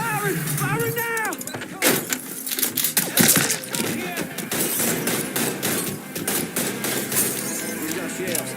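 Gunfire and heavy blasts in Mafia 3 Definitive Edition: repeated close shots and bursts in irregular rhythm, with voices talking over the shooting.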